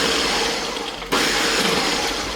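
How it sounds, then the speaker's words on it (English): A blender pulsing strawberry ice cream ingredients: the motor roars in a loud, steady whir, cuts out for a split second, then surges back on at full strength. No voices. "now that I've got everything in the blender, I'm just gonna go ahead and pulse it a couple times"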